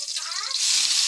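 Bitter gourd (ampalaya) sautéing in a home pan, a bright steady sizzle close to the mic that swells louder halfway through the brief moment.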